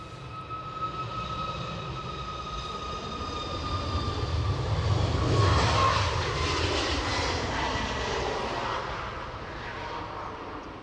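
Ryanair jet airliner at Edinburgh Airport, its engine roar swelling steadily to a peak midway and then easing off as it passes, with a steady whine running through it and no talk.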